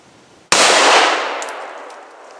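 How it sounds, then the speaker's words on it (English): A single 9mm pistol shot fired at a chronograph from seven yards, a sharp loud crack that bursts out of quiet and rings off in a lingering decaying echo. "So we're going to fire 5 rounds."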